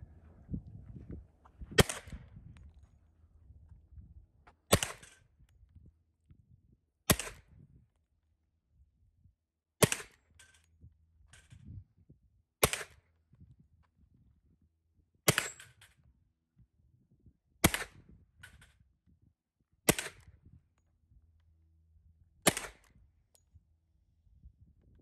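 A 10mm Hi Point bullpup carbine is fired left-handed at an outdoor range, nine sharp, loud shots spaced a few seconds apart, each followed by a short echoing tail and quiet handling noise in between.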